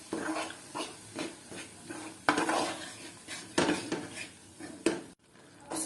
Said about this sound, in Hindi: तो ये मैं अभी डाल रही हूँ इसमें आटा और इसको अब अच्छे से भून लेंगे